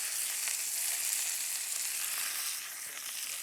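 A large piece of beef searing on its side in a hot pan, a continuous bright, hissing sizzle held steady throughout, close and fairly loud with no talking.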